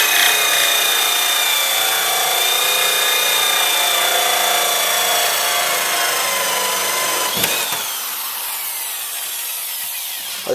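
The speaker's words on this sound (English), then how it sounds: "maybe move the drill back and forth slightly, and that'll basically get the job done." A loud, sustained drill whine grinds steadily through material during a kitchen faucet installation for about seven seconds, then shifts to a lower, quieter hum as it eases off.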